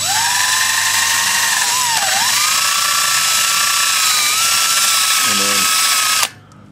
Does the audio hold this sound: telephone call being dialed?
no